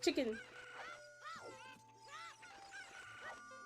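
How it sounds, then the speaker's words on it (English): Clucking and crowing chickens from the video game Ocarina of Time, a sharp squawk opening then repeated rising clucks over a steady game music drone, with no talk. "Come here, chickens. Chicken."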